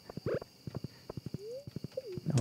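Horse hooves clip-clop in quick, even steps in the Stardew Valley video game, close and clear, with a short whinny-like tone midway and no talk.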